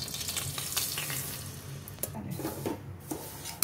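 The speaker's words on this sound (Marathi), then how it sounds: "हा आता आपण हा रवा भाजत आहोत" Semolina (rava) roasting in hot ghee on a gas stove, giving a steady close sizzle and crackle with occasional scraping stirs and pan clinks, no voices.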